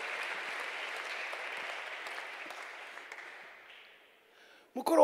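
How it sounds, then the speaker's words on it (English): Congregation clapping at a prayer service fills the room as a steady patter, then gradually dies away into quiet, with a sudden louder noise right at the end. "Thank you for clapping for the Lord."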